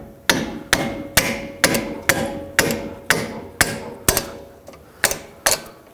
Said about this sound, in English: with a hammer or a rubber mallet, you can break these free, just like this